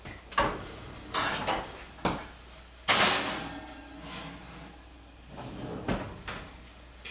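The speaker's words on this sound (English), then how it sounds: "Okay, so now it's going in the oven." A baking dish of bacon cream cheese baked spaghetti goes into the oven, with several sharp knocks and clunks of the dish and oven door, one loud bang near the middle, all close by with no talk.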